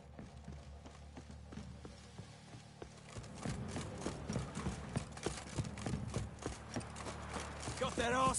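Horses' hooves clip-clop along in The Witcher 3, starting faint and growing louder and more frequent as the animals walk closer, with voices talking over them.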